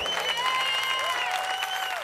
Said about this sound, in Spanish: Fuerte aplauso para el coro.